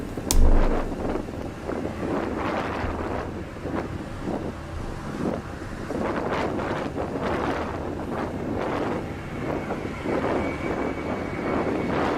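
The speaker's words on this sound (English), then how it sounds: "Air Canada A320 coming in." An Air Canada A320 lands in Microsoft Flight Simulator, giving a steady, rushing wind-like roar of jet engines and airflow that holds throughout with a brief louder thump near the start.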